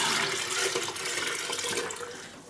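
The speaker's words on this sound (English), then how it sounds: "I'm just going to add some more water" Water pours continuously into a dye pot for hand dyeing yarn, giving a steady, close rushing splash that eases off slightly toward the end.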